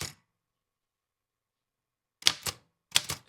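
An Underwood manual typewriter clacks out a short keystroke, then after a long silence two quick pairs of sharp key strikes, close and clear.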